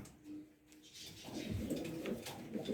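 Pigeons coo in a coop, low soft throaty calls rolling close by, starting faint and growing into overlapping cooing with light rustling in the background.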